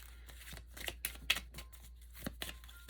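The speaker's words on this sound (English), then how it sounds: "All right, I just want to shuffle a couple more times." Tarot cards being shuffled by hand, a series of short papery riffles and soft slaps spread unevenly across a couple of seconds, close and fairly quiet with no talking.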